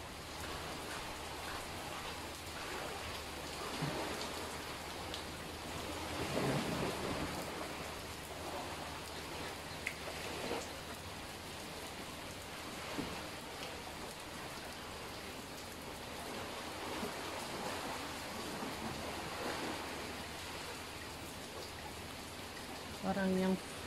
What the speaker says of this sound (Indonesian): Keras, sudahlah hujan.